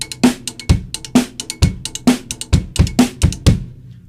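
Drum groove in a steady sixteenth-note rhythm played on the rim of the first tom, with bass drum and snare accents: crisp, close, dry clicks and thumps repeating for about four seconds, no talk.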